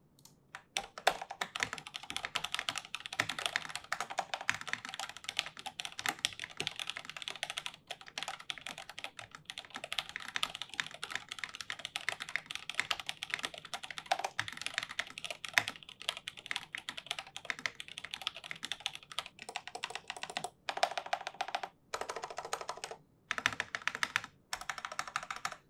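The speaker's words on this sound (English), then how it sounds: "Now, I'll do just a very short sound test, nothing fancy. It sounds like a G80." An NCR80 keyboard fitted with JWICK switches and PBT keycaps is typed on continuously, a dense, close run of clacking keystrokes with a few brief pauses and no talk.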